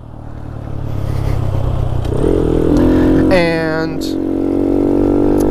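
A motorcycle engine fitted with a DHM high compression piston runs close by, idling with a low rumble and then revving sharply up and back down, while someone speaks over it.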